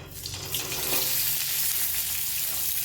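Sesame seeds roast in hot oil in a pan, making a continuous close crackling sizzle that builds slightly and then holds steady, with no voices.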